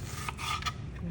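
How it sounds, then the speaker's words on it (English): A knife rasps and scrapes while slicing food for a calamari Mediterranean wrap, making a few short rubbing strokes close by over a low background hum. "I'm gonna slice it like this."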